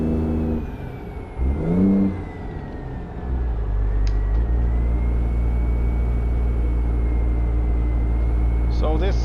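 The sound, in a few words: Peterbilt 379 truck engine revving during a proper run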